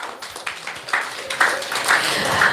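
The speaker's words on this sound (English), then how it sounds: "Let's give her a round of applause." Audience applause for a birthday honoree at an evening Namahatta gathering: a burst of scattered claps that builds and thickens over a couple of seconds, with voices cheering over it.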